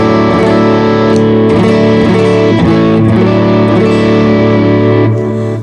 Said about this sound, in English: real pedal and MS-3 sim, natural distortion, into a dirty amp sound